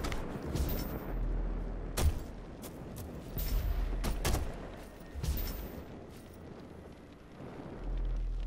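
Grenade blasts and gunfire against a demon in the video game DOOM: several sharp, heavy explosive bursts land at irregular intervals over a rumbling, noisy battle background, with no voices.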